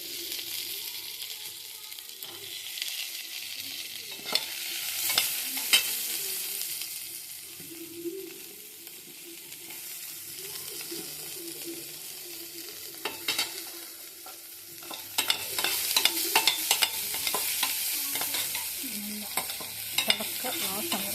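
Ginger, green chili and half of a chopped onion frying in a pan for a cauliflower, pea, carrot and potato masala, a steady close sizzle broken by repeated scraping stirs of the spoon, with no talking.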